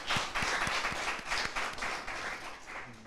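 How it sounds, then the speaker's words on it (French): Studio audience applause on a television quiz show after a close match, steady dense clapping with a few sharper near claps, lasting about three seconds. "Mais quel match encore de ces gladiateurs que je vous demande d'applaudir très très fort à la maison aussi."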